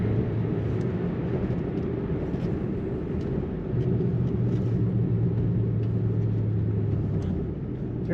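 A 2008 Ford Mustang Bullitt cruising in 5th gear at about 55 mph and 1,700 RPM, with a steady low engine drone and road rumble heard from inside the cabin, continuous and unbroken.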